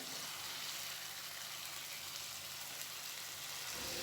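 Chicken pieces fry in oil in a kadai, a faint, steady, soft sizzling hiss without talk.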